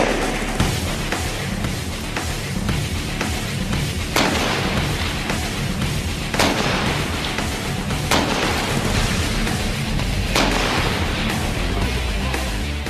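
South Korean army sniper rifle firing at a 400 m target: several sharp, loud cracks spaced a few seconds apart over a constant, dense roar of outdoor noise.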